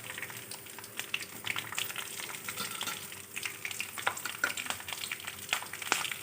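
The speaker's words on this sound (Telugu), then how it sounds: "కొద్దిగా ఫ్రై అవ్వనించి" Green chilies sizzle in hot oil alongside mustard seeds and cumin for an Andhra-style brinjal curry, a steady close crackle with sharp pops scattered throughout and no voices.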